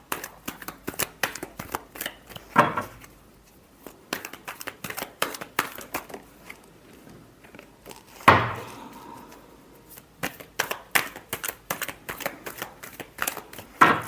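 Tarot cards are shuffled by hand in repeated bursts of quick riffling flutters, near and fairly soft, with two sharper slaps of the deck against a surface.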